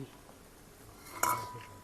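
A metal idli plate set down into a pot while cooking, giving one sharp metallic clink and clatter near the end of an otherwise quiet stretch.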